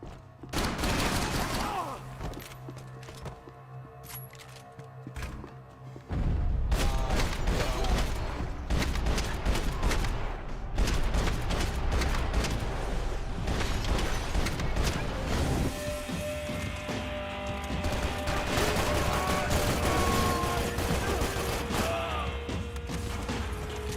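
Sustained heavy gunfire from Max Payne 3 on normal difficulty, dense rapid shots and crashing impacts running loud and continuous after a quieter opening, with no talking.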